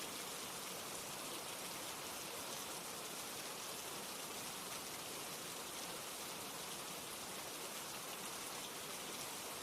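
Steady rain falling, a dense even hiss of drops that stays constant and fairly soft throughout, with no voices.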